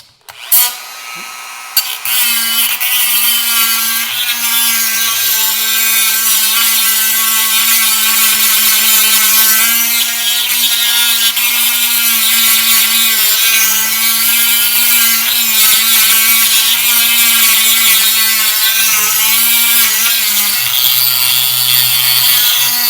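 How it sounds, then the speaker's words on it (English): A Dremel rotary tool with a grinding wheel grinds a part of a World War I era Coleman IL 323 lantern, giving a loud, steady high-pitched whine with a gritty edge that holds for over twenty seconds. "Got a grinding wheel on my Dremel, and I think this should work."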